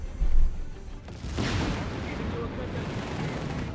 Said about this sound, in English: Machine gun busy on the southern victory point.